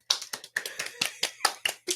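About ten sharp hand claps land in an uneven, quick rhythm, close and loud with short gaps between them, and no voice in between.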